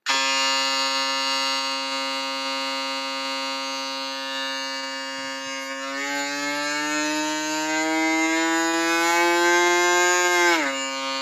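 An MRD Moreda hair trimmer with a 13K RPM vector motor runs loud and steady, a strong buzzing tone held throughout, dropping slightly in pitch about halfway through as if under load before settling again.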